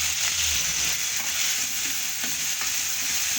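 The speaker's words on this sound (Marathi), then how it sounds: "दोन कांदे बारीक चॉप करून घेतलेले आहे ते टाकून द्यायचे" Chopped onions fry in oil with cumin, mustard seeds and curry leaves, a continuous close hissing sizzle with faint stirring throughout.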